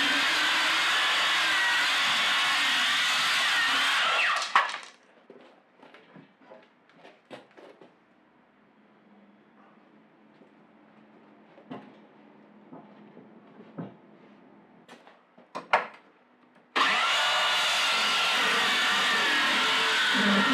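A loud power saw trimming plywood whines steadily for a few seconds, cuts out into quiet shop clatter, then roars back up at the end.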